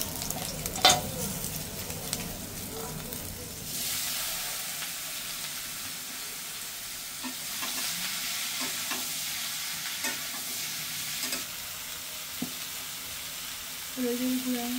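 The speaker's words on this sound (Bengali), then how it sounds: "এই পাশে মাছগুলো ভেজে নিতেছে তরকারির জন্য" Fish fries in a pan ahead of making a curry, a soft hissing sizzle that brightens after a few seconds, with occasional spatula taps and scrapes, fairly faint and steady throughout, with no clear talking.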